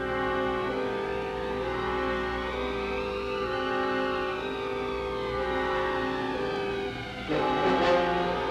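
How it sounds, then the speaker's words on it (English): Tornado warning sirens wail across Wichita Falls, Texas, during the 1979 storm, a steady rising and falling tone that fills the clip continuously, fairly loud and unbroken, with a brief dip and swell near the end. "the Wichita Falls area is under a tornado warning right now. You hear the sirens blowing."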